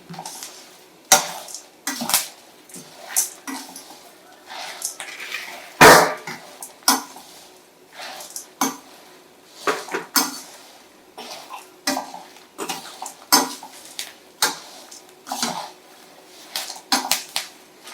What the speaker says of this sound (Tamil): பருப்பு கருவேப்பிலை எல்லாம் ஒன்று போல வறுவட்டும். இப்படி கிண்டிக்கிட்டே இருக்கணும்